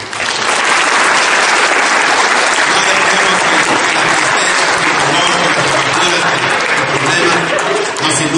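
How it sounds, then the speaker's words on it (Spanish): A church congregation claps loudly and continuously during a service, a thick, sustained wall of applause filling the room from start to end. "Denle otro aplauso al Señor."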